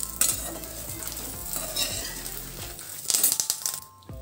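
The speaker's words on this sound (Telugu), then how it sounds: "కరివేపాకు ఎండుమిరపకాయలు వేగిపోయాయండి." Curry leaves and dried red chillies frying on a low flame, a close crackling sizzle with stirring scrapes and light metallic clinks, ending in a few louder stirs before the pan goes quiet.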